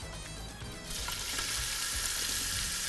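Onion sizzling as it sautés in oil in a pan while rice with seafood is being prepared, a steady loud frying hiss that swells after the first second and continues throughout.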